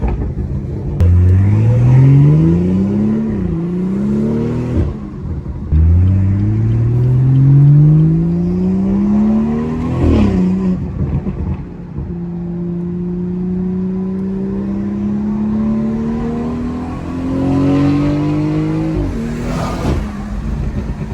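Big-turbo 2019 BMW 440i accelerating hard, loud engine pulls climbing through repeated gear changes with brief dips between shifts, heard from inside the car.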